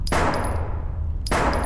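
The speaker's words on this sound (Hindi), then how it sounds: "चला तो रहा हूं गोलियां," Two heavy gunshot blasts from a firearm in a first-person bodycam horror game, loud and close, each one followed by a dense, booming tail that fills the short stretch between them.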